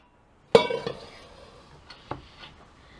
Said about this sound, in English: I've strained and rinsed these beans, and I'm putting them back in the pan, and I'm adding plain water